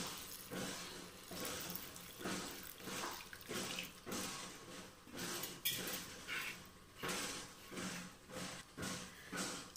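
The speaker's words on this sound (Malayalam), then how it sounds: "എന്നിട്ട് ഈ വെള്ളം ഒഴിച്ചൊന്ന് കലക്കണം." Water is poured into salted rice flour and stirred for idiyappam, a faint, close series of rhythmic sloshing and scraping strokes repeating evenly throughout.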